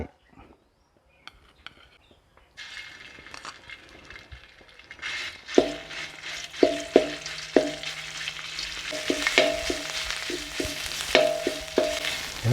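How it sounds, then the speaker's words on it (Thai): Boiled pork cartilage stir-fried in a little oil with southern Thai curry paste for khua kling: quiet at first, then steady close sizzling with repeated sharp scrapes and clacks of a spatula against the pan. "ใส่น้ำมันลงไปเลยไม่ต้องเยอะนิดหน่อย ตามด้วยพริกแกงใต้"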